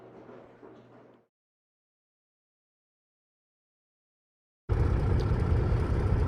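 A 2000 Kenworth W900A dump truck with a Cat 3406E engine drives along. Faint cab noise gives way to a gap of silence, then a loud, steady, full-bodied rumble suddenly fills the rest.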